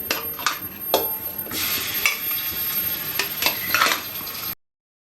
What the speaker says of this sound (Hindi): तेल जो है हमारा गर्म हो गया, अब हम इसमें चिकन डाल रहे हैं।